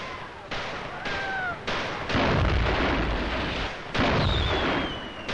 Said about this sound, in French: C'est un de nos canons qui tire sur nous.